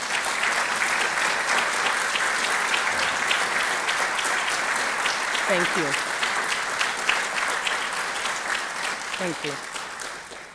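A luncheon audience at a housing authority's 75th anniversary event applauds its staff, sustained, full-room clapping throughout while a man at the microphone briefly says a few words over it.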